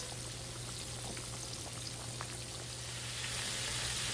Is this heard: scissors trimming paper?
no